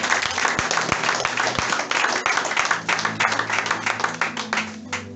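A church congregation claps in a steady, lively rhythm, sustained applause with sharp individual claps standing out, close and fairly loud, with a sung or spoken voice faintly underneath.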